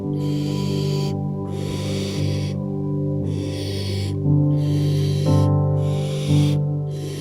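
Young barn owls in Ireland giving loud wheezing, snoring calls at night, a run of rasping hissy bursts that repeat roughly every second over a steady droning background, close and with no talk.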